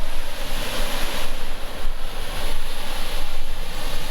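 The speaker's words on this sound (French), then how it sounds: "je vais vous faire profiter un petit peu du son. Le son de l'eau." Water rushing steadily near a canal lock, a continuous broad wash with a windy, surf-like roar that stays loud and close throughout, with no voices.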